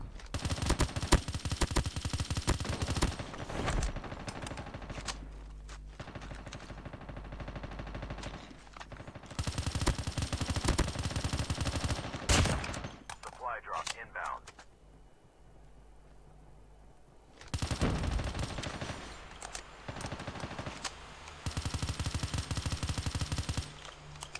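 Machine-gun fire rattles in long, loud automatic bursts during a video game match on the Alcatraz map, separated by short quieter gaps, with no one speaking.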